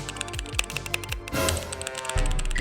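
Rapid keystrokes on a gaming keyboard, mounted in a gaming laptop setup, clatter in a quick irregular run of close, crisp clicks, then a brief pause and a burst of faster typing.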